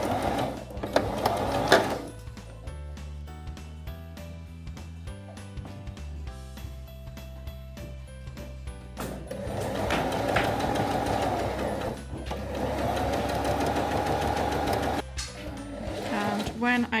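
Sewing machine stitching around the seams of an envelope cushion cover in several runs of rapid, even needle rattle, separated by short pauses.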